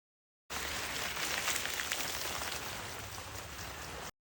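Sprinklers spraying water over coffee plants on a farm, a dense steady rain-like hiss that starts abruptly and holds evenly to the end, no voices.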